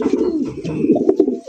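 A pair of racer pigeons coo in soft, throaty, repeated bursts at close range, with low rolling calls running steadily through the whole moment.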